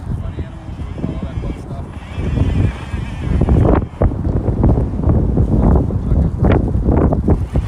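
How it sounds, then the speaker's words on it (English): Strong, gusty wind buffets the microphone outdoors near Chicago on a snowy day, a loud, continuous rumble that swells and roars throughout. "My apologies for the wind."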